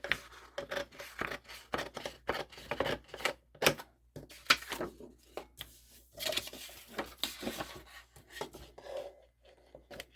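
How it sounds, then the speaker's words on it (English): Scissors snip through paper being cut for a handmade journal cover, a run of quick, crisp crunching cuts with brief pauses and light rustling of the sheet, close and fairly quiet. "And I'm going to cut the paper here."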